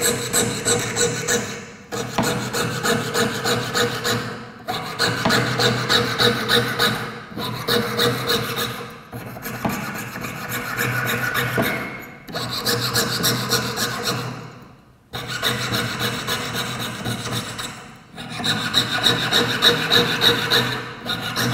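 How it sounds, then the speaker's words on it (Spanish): A jeweler's saw, its blade lubricated with candle wax, cuts through a workpiece in steady rasping back-and-forth strokes. The strokes come in close, loud runs broken by brief pauses for about seven bursts. "voy a utilizar un pedacito de vela para lubricar las sierras para que corra mejor, digamos, cuando yo estoy cortando"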